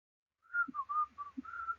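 A person whistles a short, clear melodic phrase of several sustained notes, close and alone in an otherwise quiet room.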